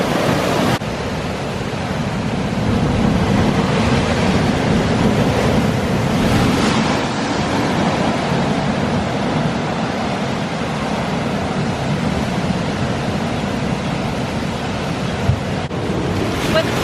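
Big ocean waves surging and crashing on the shore, a continuous loud roar of surf mixed with wind buffeting the microphone.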